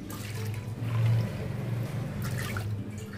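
Water poured from a cup into a pressure cooker holding toor dal, a low gurgling trickle with a brief fuller surge near the middle, close and fairly quiet.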